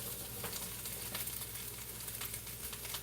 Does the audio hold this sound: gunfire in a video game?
no